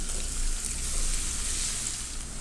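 Five cloves of garlic and some onion sauté in hot oil, giving a close, even sizzle that holds steady for a couple of seconds with no voices.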